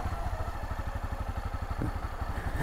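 A Honda XRE 300 motorcycle engine-brakes down a steep hill in first gear, throttle closed, producing a steady rapid low putter close by with a slight clattering beat.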